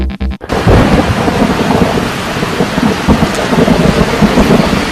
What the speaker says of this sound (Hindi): किसी नदी में आसमानी बिजली गिरने का अद्भुत दृश्य आपने नहीं देखा होगा तो देखिए।